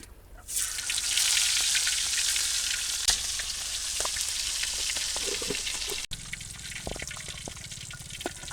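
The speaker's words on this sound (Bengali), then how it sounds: "এই মাছটা ভাজা হয়ে গেছে" Fish frying in a pan for a village-style home meal gives a loud, steady crackling sizzle that sets in within the first second and holds throughout, with a few sharp pops and light utensil touches near the end.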